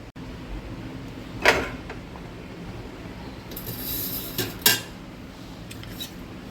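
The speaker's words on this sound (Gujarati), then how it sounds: "ગેસ ચાલુ કરી દઈશું." A home kitchen gas stove is switched on before dal is cooked: two distinct metallic clicks from the knob and igniter, several seconds apart, with a brief soft hiss between them.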